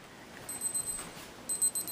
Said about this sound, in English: I forgot to stop the timer.